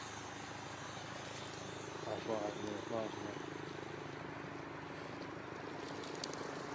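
A remote-control model aeroplane flies over Wanstead Flats on a calm, windless afternoon, its small engine making a steady, droning buzz with a high whine that swells slightly midway and carries on throughout.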